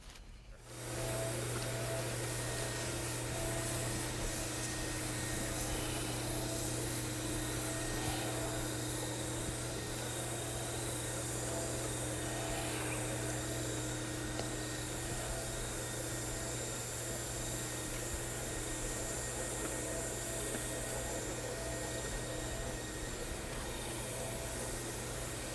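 A concrete floor polishing machine running a blue 200 grit Phoenix pad by HTC over self-leveling concrete topping, starting abruptly into a loud continuous motor whine and grinding hiss that holds steady throughout.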